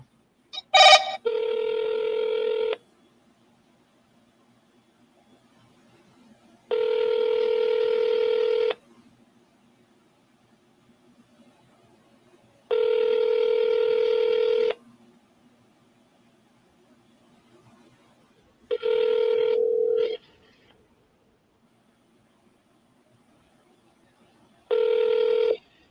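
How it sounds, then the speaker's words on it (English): Telephone keypad tones sound in five separate bursts, each a steady loud beep lasting about two seconds with quiet gaps between, the fourth briefly broken. "Double dial."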